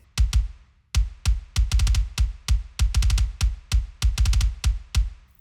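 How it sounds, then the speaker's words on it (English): Sampled kick drum for a modern metal mix, isolated and played alone in tight rhythmic patterns of quick doubled and tripled hits, deep and punchy with a clicky attack, close and loud. "So for the kick, I added some regular samples, and they sound like this."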